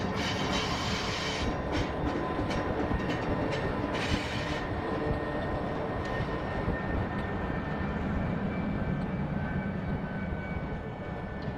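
A 1956-built GP9 diesel locomotive rolls along the old B&O main line at Brunswick, Maryland, with a steady loud rumble and rail noise lasting throughout.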